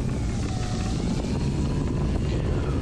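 A Titanium Trainer model airplane taxis on the ground, its propeller and motor giving a steady, loud, continuous buzzing drone with no pauses or speech.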